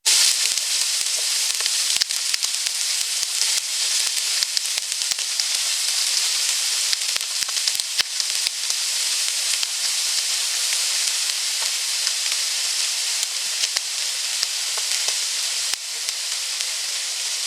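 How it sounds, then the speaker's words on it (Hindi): Beef fries with ginger in a pan for a stew, a loud, continuous close hiss of sizzling oil with scattered tiny pops and crackles, steady for the whole stretch and no voices. "ये तीनों चीज़ें डालेंगे और गोश्त को भून लेंगे"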